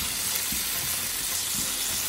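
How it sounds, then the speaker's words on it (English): Asparagus sizzles gently in a hot pan while it is stirred now and then, a soft steady hiss with faint scraping pulses. "And we're occasionally stirring our asparagus."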